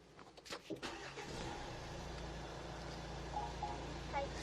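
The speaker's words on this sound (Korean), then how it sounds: "그럼 바로 시동부터 한번 걸어보도록 하겠습니다" A 2017 Renault Samsung QM6 SUV starts by push button: a few clicks and thumps inside the cabin, then the engine catches and settles into a low, steady idle hum heard from the driver's seat, quiet overall.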